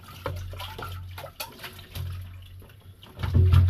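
Water splashes and runs while rice is rinsed by hand in a basin, a moderately close wet sloshing with a few louder surges, swelling toward the end.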